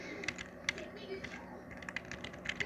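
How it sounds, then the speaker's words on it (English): Fingers tap out a quick, uneven string of key presses on a computer keyboard while entering a network command, the clicks sharp and close over a steady low background hum. "And we are typing this."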